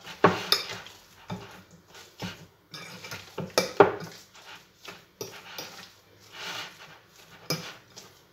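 A spoon scrapes and clinks against a bowl while meatball mixture is stirred, in irregular bursts of clattering contact. A dog's whimpering is faintly audible in between.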